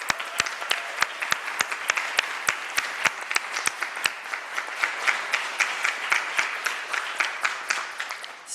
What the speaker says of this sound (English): Could we just give them another round of applause?